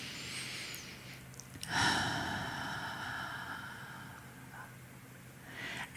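A single slow inhale during a guided meditation session, one soft drawn breath near the start followed by quieter exhaling, close and faint in a calm, quiet room.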